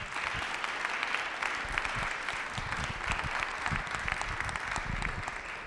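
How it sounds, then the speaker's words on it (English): Sustained round of applause from a seated crowd at a Rotary Club of Cincinnati luncheon meeting, steady dense clapping throughout without pause, no talking over it. "let's give Sam a round of applause"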